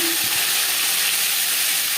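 Katla fish belly pieces frying in a little oil give a dense, continuous sizzling hiss, steady and close throughout, with no voices.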